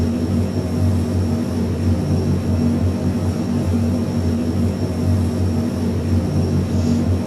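A large four-engine turboprop military transport, the Airbus A400M, taxiing in a flight simulator game, giving a steady, loud, continuous engine drone with a low hum throughout, no voices.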